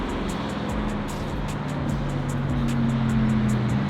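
A Lamborghini Urus engine idles and rumbles on a Zurich street, a low, steady hum close by with a slight rise toward the end and a faint regular ticking above it.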